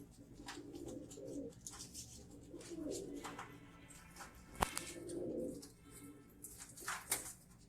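A racing pigeon coos in repeated low, throaty bursts close by, with no voices over the calls.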